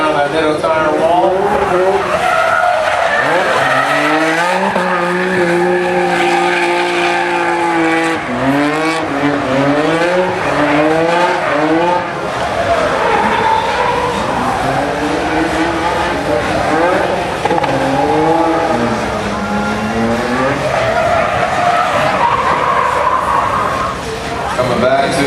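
A Formula Drift car slides through a course with sustained, loud, wavering tire squeal and a roaring engine rising and falling, continuous throughout, while a commentator talks over it.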